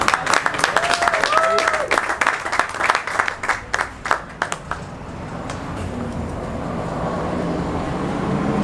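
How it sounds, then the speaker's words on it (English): An audience bursts into applause, dense clapping strongest at the start and thinning over the first few seconds, then fading under a low, steady room rumble; faint voices blend in early. "Give her a round of applause."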